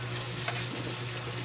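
Onion, garlic and tomato sautéing in a hot pan give a steady, continuous sizzle with a faint low hum underneath, close and even, without any talk.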